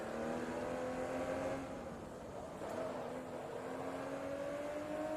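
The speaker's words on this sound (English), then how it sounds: "for a game that came out in 2007, the engine sounds are nice." Race car engine from the 2007 Forza Motorsport 2 racing game, a steady loud droning whine that holds its pitch, dips briefly mid-clip and then climbs again as the car accelerates, with no talking.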